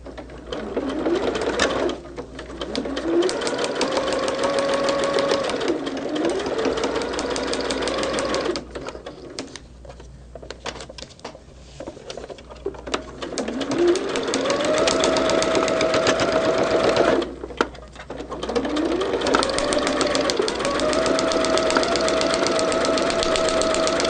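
A sewing machine stitches through pinned layers of a quilt block in long whirring runs, speeding up and slowing down, with short pauses between seams. Heard up close with no talking.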